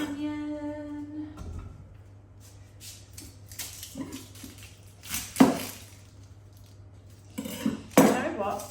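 Knife cutting a soft, mouldy quartered onion on a board in a home kitchen, a few scattered soft chops and clinks after a brief tonal hum, with clattering utensil sounds near the end.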